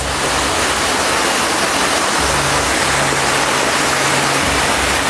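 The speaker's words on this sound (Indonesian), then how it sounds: "Airnya mengalir deras." Water gushes steadily from the Pancuran 7 bathing spouts at the Telaga Emas women's bathing pool, a loud, continuous close rush with no pauses.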